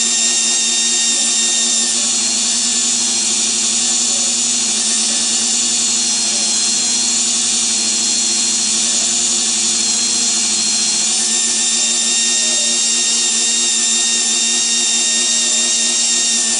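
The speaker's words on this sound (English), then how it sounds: "Just keep polishing until you see the metal disappear and it does not appear on your handkerchief anymore." A metal axle is polished while a loud, steady, high-pitched machine whine runs unbroken throughout, with no talking.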